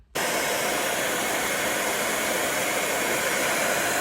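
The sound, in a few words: heat gun heating old stickers on a C100 bike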